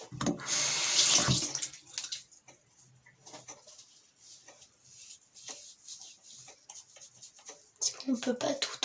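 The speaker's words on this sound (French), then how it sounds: "après du coup on se jettera de l'eau sur le visage" Water running from a sink tap and splashed onto a face during a facial care routine, a loud gush at first and then quieter trickles and splashes, with speech throughout.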